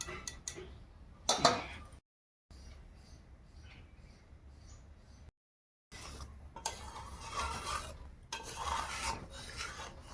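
Vermicelli pudding with jaggery being stirred in a pot, a rasping, scraping rhythm of spoon against the pan, close and fairly quiet, broken by a couple of brief silent gaps.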